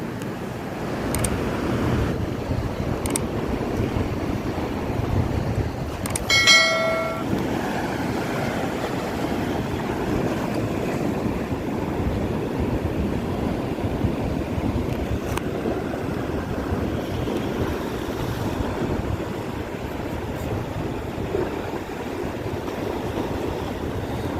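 Giant sea waves crash and roar steadily during a cyclone off the coast at Point Pedro, a continuous broadband surge of surf mixed with gusting wind buffeting the microphone, with one brief sharper splash partway through.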